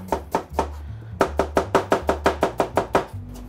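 Knife chopping fresh ginger finely on a cutting board while making potato and quinoa cakes: a rapid, even run of about a dozen sharp close-up chops, briefly pausing after the first few, with no talking.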